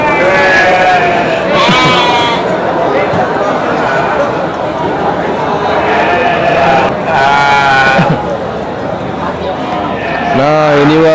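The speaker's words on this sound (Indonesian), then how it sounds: "ini domba pejantan ya, domba Garut biasa ya kan" Garut rams bleat several times at a busy livestock market, their calls rising over a constant bed of crowd chatter and outdoor commotion.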